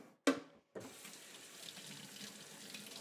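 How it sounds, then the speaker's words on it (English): Water runs from a kitchen tap while hands are rinsed. A short burst is followed by a pause, then a steady, soft splashing stream continues nearby. "Rinse off your hands."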